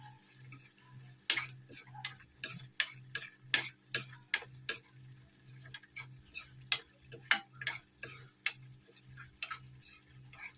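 A spatula stirs and sautés masala spices in oil in a pan while cooking methi matar malai, making a steady run of sharp tapping and scraping clicks against the pan over a low hum, with no talking.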